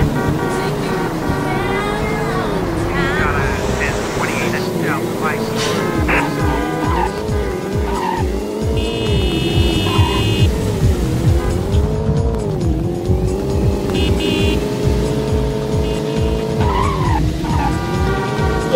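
A car in a video game physics demo skids around a corner, its engine droning and tires squealing continuously and loudly throughout, with pitch rising and falling as it accelerates.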